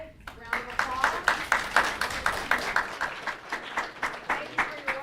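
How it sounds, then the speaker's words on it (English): An audience claps in a steady round of applause, many hands beating in a pulsing rhythm at moderate volume, fairly close, with no voices over it. "round of applause"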